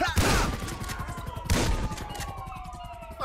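Two heavy shotgun blasts roughly 1.3 seconds apart in a GTA 5 zombie mod, each a loud broadband burst with a ringing tail, with no talking in between.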